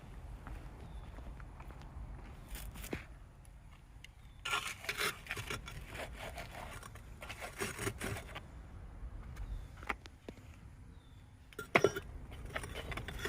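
A failed aluminum casting is loaded into a number 6 crucible for a melt, making bursts of scraping, rasping metal-on-metal rubs between quieter pauses, close by and moderately loud.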